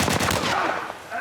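Gunfire in The Last of Us Part I, a rapid burst of loud, close shots that blur together over a short span.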